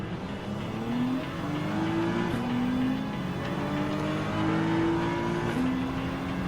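Several Gran Turismo 7 race cars in a Clubman Cup Plus event rev their engines on the starting grid. Steady engine drone rises and falls in overlapping revving tones, held at a constant loud level with no talking.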